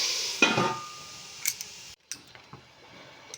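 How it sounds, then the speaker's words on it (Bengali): Grated carrots for gajar halwa frying on a low flame in a covered pan, with a soft hiss broken by a sharp metal clank of spatula or lid and a few light taps and scrapes. "লো ফ্লেমে ঢাকা দিয়ে আমি ভালো করে ভেজে নেব।"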